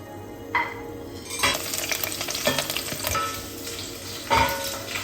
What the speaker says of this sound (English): just stir it for about 2 to 3 minutes until you see the aroma picks up